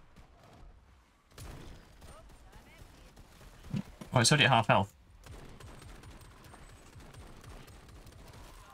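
Gunfire in the first-person shooter Shatterline, heard as a short, loud burst of rapid shots over game noise. Players talk before and after it.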